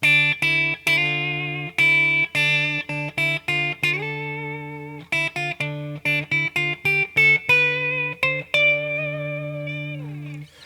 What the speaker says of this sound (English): D Dorian's gonna sound like this.